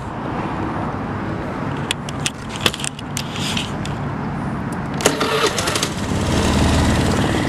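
A 2010 Honda Elite 110 scooter starting up, heard as keys jangling and clicks followed by the small engine turning over and settling into a low, close idle.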